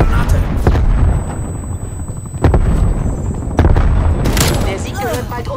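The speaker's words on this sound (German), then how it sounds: "Werfe Granate." Grenade blasts in multiplayer Call of Duty Black Ops Cold War, several loud booming detonations and gunfire bursts spaced through the stretch, with voices talking over the combat.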